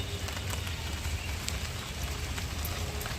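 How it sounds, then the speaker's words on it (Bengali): Rain falls across a vegetable garden with gourd plants, a dense, even hiss of drops spattering on leaves and ground, steady throughout with a few sharper taps and no voices. "আবার বৃষ্টি চলে আসলো"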